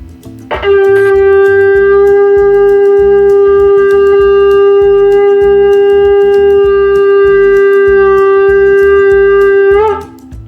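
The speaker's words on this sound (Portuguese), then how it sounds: "Este é o som do shofar de oryx" A single long, steady blast on an oryx-horn shofar sustained for about nine seconds, loud and bright with rich overtones, ending in a brief rising wobble.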